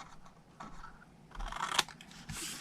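Scissors snipping card stock along score lines for a paper treat box: a few short, close crisp cuts and rustles of paper, quiet and irregular, with no talk.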